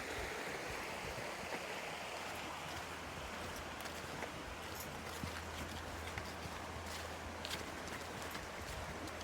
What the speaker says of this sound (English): And some waterfalls. Yeah, some rapids